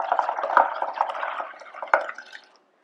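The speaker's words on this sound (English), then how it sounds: "So we're just going to exhale into the cup." Breath blown through a straw into a cup of water tinted with food colouring, a busy stream of bubbling and gurgling for about two and a half seconds before it stops, close and fairly quiet.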